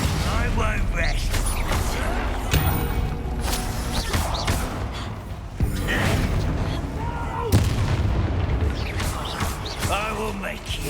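Stupefy and Confringo spells cast in Hogwarts Legacy land as repeated blasts and booming impacts within dense, continuous game sound, with a voice talking over the action.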